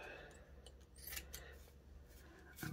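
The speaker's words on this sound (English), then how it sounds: "So I'm going to cut that across" Scissors snipping across fabric for a homemade head-size hat block, several short close cuts with faint rubbing between them and a louder rustle at the end, with no talk.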